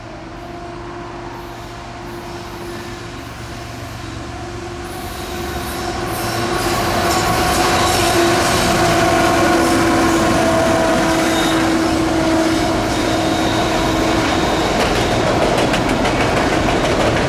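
A westbound Norfolk Southern freight train rolls past with a steady rumble that builds and then holds loud, while wheel squeal rings high over the clatter of the passing cars.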